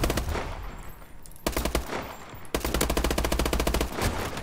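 Bursts of rapid automatic gunfire in Call of Duty: Advanced Warfare, loud and close, come in three volleys separated by brief pauses.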